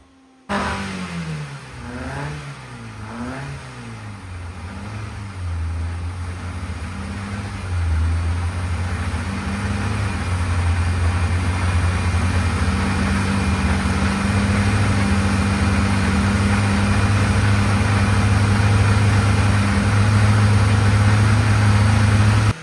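A tuned Volkswagen VR6 engine revs repeatedly, rising and falling in pitch, then settles into a loud, sustained high-rpm roar.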